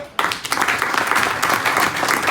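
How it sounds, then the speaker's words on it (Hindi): An audience at a farmers' knowledge competition claps loudly, a sudden, vigorous burst of applause that stays dense and close to the end. "मैं आप सभी से अनुरोध करूंगा, एक बार जोरदार ताली बजा दीजिए।"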